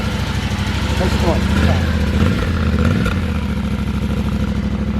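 A Yamaha Tenere 700 motorcycle engine runs close by in a loud, steady, throbbing idle with a slight swell in revs near the middle, with no speech over it.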